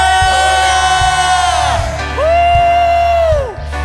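A church congregation cheers and whoops in praise during a worship service, with loud sustained shouts rising and falling across two swells over a steady low musical drone and beat.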